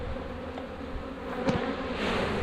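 Honey bees buzz steadily at an open hive during a nectar flow, a dense continuous drone close by with no voices.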